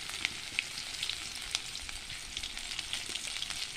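Chopped onion fries in hot oil with mustard seeds for beetroot poriyal, giving a steady, close crackling sizzle dotted with small pops and no talking.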